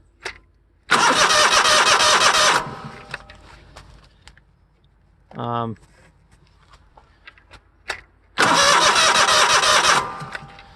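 Simplicity Legacy 20 lawn tractor engine cranking in two loud bursts of about two seconds each at the start and end, with a short rattly mechanical sound between them and quiet gaps.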